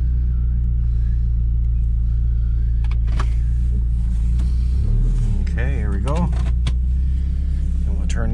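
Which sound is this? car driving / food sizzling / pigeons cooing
car driving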